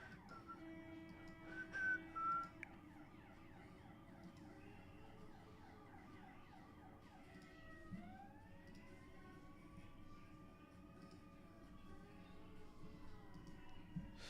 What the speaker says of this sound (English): Y'all can hear the sirens like that?